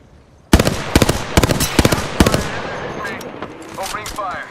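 Rapid automatic gunfire in Apex Legends, a burst of loud, sharp shots in quick rhythmic succession, then fading into softer in-game effects and ambience.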